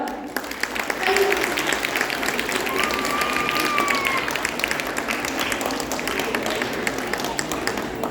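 Parents in an audience applaud after a third-grade Kannada class performance by children in Cupertino. A full, steady wash of many hands clapping runs for several seconds, with faint voices mixed underneath.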